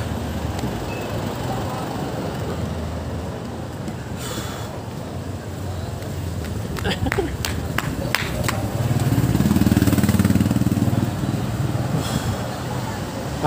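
A Honda Click 125 scooter ridden over speed humps during practice, its engine a steady near drone throughout with a rise in loudness midway, while riders shout and talk over it.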